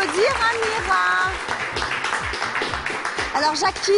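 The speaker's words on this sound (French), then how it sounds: "Continuez à applaudir Amira." Clapping and crowd noise in a hall at a Bollywood dance event for Amira, mixed with music and a voice talking over the steady applause.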